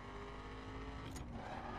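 A car drifting in the racing game The Crew on PS4, a steady engine drone with a brief tire-squeal flare partway through, faint and alone.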